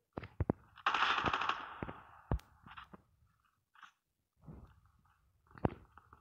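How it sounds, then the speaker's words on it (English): AK-117 rifle firing in Call of Duty Mobile, a burst of automatic fire followed by scattered single shots and short bursts from a distance in a free-for-all match, moderately quiet with no talk. "I really like the sound of the AK-117."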